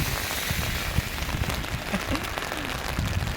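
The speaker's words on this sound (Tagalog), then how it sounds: "Umuulan." Rain falls steadily in a hissing, broadband wash, with scattered drops tapping and faint background sounds beneath it.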